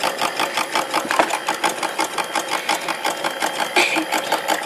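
A small drive motor in a paddle wheel boat built from recycled materials runs steadily close by, giving a fast, even mechanical chatter with a regular pulsing rhythm.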